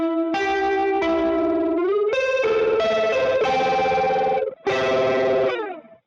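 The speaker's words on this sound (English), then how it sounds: "So, and then a ring modulator." An electric guitar runs through a ring modulator effect, giving a metallic, bell-like warble across a series of sustained chords and notes. It is loud and close, with a short break near the end and no talk.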